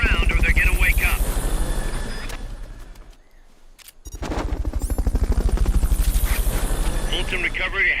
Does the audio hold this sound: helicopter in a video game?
yes